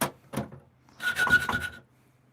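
Metal tongs scrape and rub against charcoal inside a stove in a van on a cold night, two short scrapes followed by a longer grinding shuffle, close and fairly loud with no talking.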